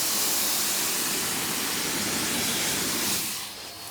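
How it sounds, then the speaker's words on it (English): A pressure washer blasts water onto a car wheel and tire with a loud, continuous hissing roar that holds steady and then drops off near the end. "Come on, pressure washer, get that water flow."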